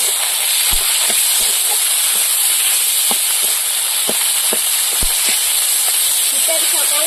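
Chopped tomatoes with spices sizzle in a hot pan as a constant loud hiss, broken by a few soft clicks and taps of cooking.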